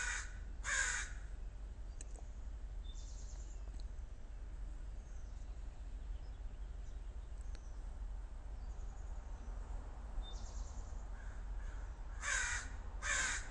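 A crow caws outdoors in two separate bursts of harsh repeated calls, one near the start and one near the end, over a steady low background hiss with faint insects.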